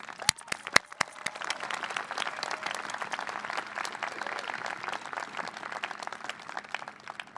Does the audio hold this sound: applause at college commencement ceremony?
yes